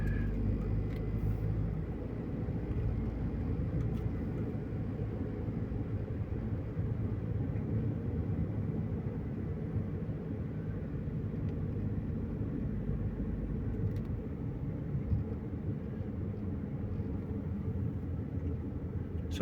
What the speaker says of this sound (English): the huge amounts of traffic that I've had to navigate